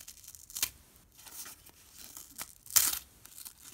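Paper being cut by a freshly sharpened chainsaw chain, heard as several short, sharp tearing and crinkling bursts spaced irregularly, the loudest near the end, with quiet gaps between and no talk.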